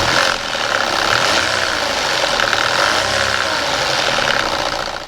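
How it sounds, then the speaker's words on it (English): An Audi A4 engine idles close up with an unwanted mechanical noise, a steady running hum carrying a wavering, knocking undertone for several seconds, with no one speaking. "This one noise is stopping me from being able to sell this Audi A4."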